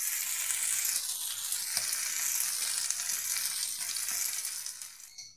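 Mutton pieces frying over a high gas flame in a home kitchen, giving a loud, steady, close sizzle that runs continuously and fades slightly at the very end.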